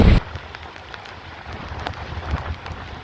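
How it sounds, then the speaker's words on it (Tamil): Heavy rain driven by strong wind from Cyclone Ditwah on Rameswaram island patters steadily with gusty buffeting against the microphone, beginning with a loud thump. "பலத்த காற்றுடன் விடாமல் தொடர்ந்து மழை பெய்தது"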